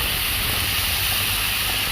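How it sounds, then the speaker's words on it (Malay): Mushrooms and carrots sauté in a pan with a steady, close hissing sizzle that holds without a break for the whole two seconds. No one speaks over it. "tumis lah sampai dia lembut lah"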